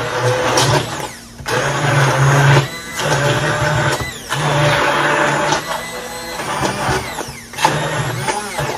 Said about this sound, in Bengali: ব্লেন্ড করতে বেশিক্ষণ লাগতেছে না, অলমোস্ট হয়ে আসছে।